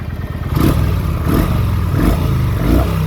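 A 2007 Kawasaki VN900 cruiser motorcycle with factory exhaust idles with a deep, steady rumble, its low exhaust note pulsing in regular throbs, close and loud.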